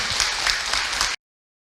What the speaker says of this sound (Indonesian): Tepuk tangan bu untuk Abi